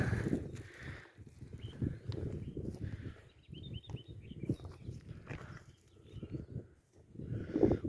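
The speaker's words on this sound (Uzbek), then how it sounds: "Qushlarni eshitinglar hozir." Faint birds chirp in short bursts in the distance on a mountainside, over a steady rustling outdoor background.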